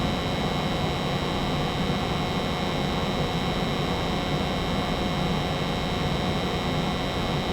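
An American Standard 90% furnace blower runs with a steady, dense hum and broadband rush, constant and unbroken throughout, close and fairly loud, with no voices.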